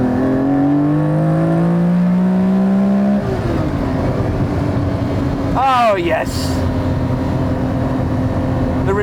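A Lamborghini Countach V12 pulls hard, its loud engine note climbing in pitch, then a gear change drops the revs before it builds again, with a voice briefly exclaiming over it.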